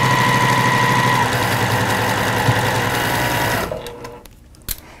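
A sewing machine stitches a quilt block in a steady, loud mechanical whir that runs for nearly four seconds, then slows and stops, leaving a few faint clicks and a soft knock near the end.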